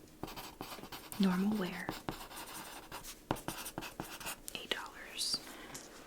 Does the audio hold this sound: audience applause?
no